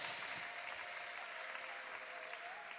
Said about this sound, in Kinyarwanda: Twongera Imana amashyi n'impundu itorero ry'Imana